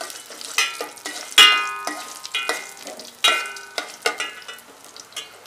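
Curry leaves dropped into hot oil as the tempering for a traditional Brahmin-style South Indian sambar, giving close, uneven bursts of crackling pops and spits with no one talking.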